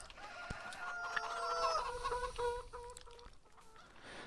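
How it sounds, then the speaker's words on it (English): Chickens cluck and squawk in Farming Simulator 19, several close birds calling in overlapping bursts with a crow-like call, no talk. "we've got chickens"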